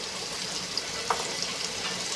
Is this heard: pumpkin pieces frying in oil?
yes